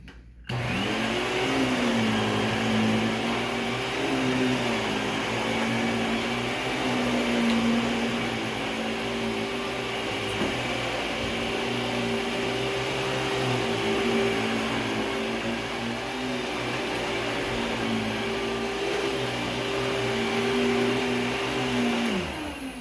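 A Filter Queen Majestic vacuum cleaner drones loudly and steadily, its motor pitch rising and dipping slightly as it is pushed back and forth, with no talking.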